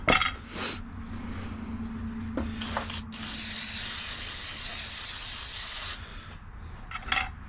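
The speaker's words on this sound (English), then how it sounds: "I'm just going to use some of this super slick stuff, penetrating lube" A can of penetrating lube sprays in one long, steady hiss of about three seconds, with a few short clinks and rubbing sounds from a fillet knife repair before and after.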